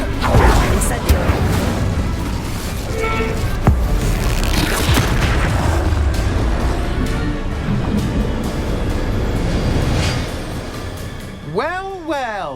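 In the Hogwarts Legacy video game, an Incendio fire spell is cast amid continuous booming blasts and whooshing effects from the fight. The sound is loud and dense, and a voice is heard over the end.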